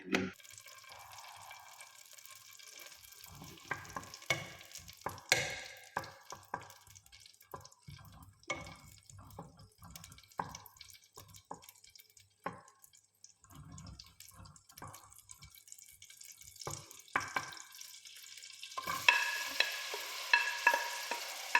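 Chicken cooking in a home pan, with a steady fry and sizzle, repeated scraping stirs and clinks throughout, and a brighter, louder hiss of frying near the end.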